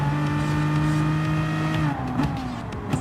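A GT3 race car roars past on a Gran Turismo Sport track, its engine a steady high whine that sweeps down in pitch as it goes by, loud and close with no talk.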